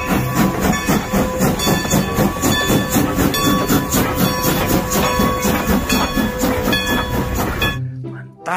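A train passes with a loud, steady rumble and rhythmic clickety-clack of wheels on rails, close and sustained for several seconds before cutting off abruptly.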